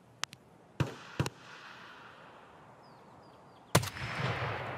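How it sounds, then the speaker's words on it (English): A few sharp pops crack out of a quiet background in the video game Escape from Tarkov, then a loud explosion booms and rumbles away into a lingering roar. "Cue loud explosion."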